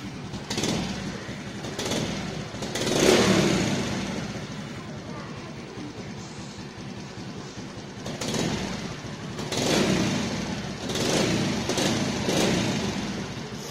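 A Suzuki Smash 115 FI motorcycle engine idles roughly and unevenly, with the throttle blipped a few times in swelling surges, while someone talks over it at moderate volume.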